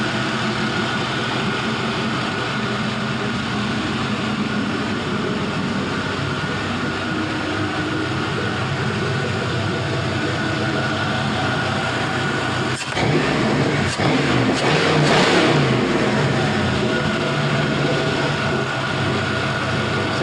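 A 5.3-liter LS V8 engine runs at a steady idle, a continuous broad drone throughout with a brief throttle blip of revving near the end.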